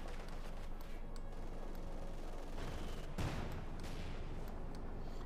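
Tank cannon fire in Company of Heroes 2, with a Panzer IV and T-34 trading shots, heard as muffled battle noise with gunfire bursts and one heavier boom midway, fairly quiet and distant.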